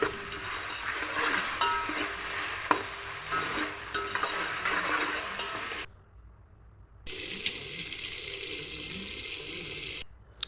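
Onions frying in a pan for chicken curry, a steady close sizzle with occasional stirring scrapes that drops away briefly and then returns.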